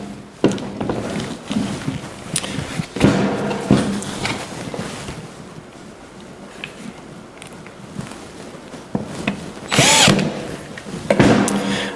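Handheld orbital sander hooked to a small shop vac for dust collection, whirring in uneven bursts close by, rising and dropping in loudness over about twelve seconds with a few handling knocks between.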